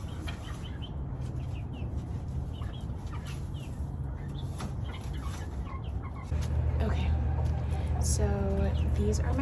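Backyard chickens, a mix of hens and young pullets, cluck and murmur in a coop with a steady low background hum, and a louder run of clucks comes toward the end.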